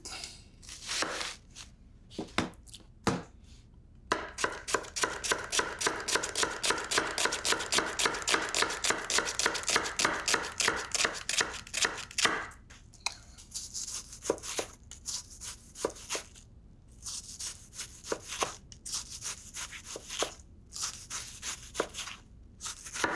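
A knife slices an onion on a cutting board for piperade, with scattered cuts at first, then a fast even run of crisp taps, followed by slower irregular strokes, all close and unaccompanied by talk.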